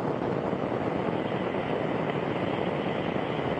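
Soyuz rocket first-stage engines at the TMA-13 liftoff, a loud, steady, broadband roar that fills the whole clip without pause, with no talk.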